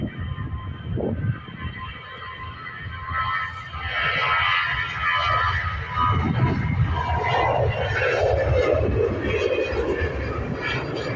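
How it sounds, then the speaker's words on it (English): A Trade Air Airbus A320 airliner heads out toward Grenoble at an airport. A broad, steady jet roar holds from start to end, building slightly and staying fairly distant, with no speech. "This trade air flight heading to Grenoble. This Airbus A320, I do like this livery."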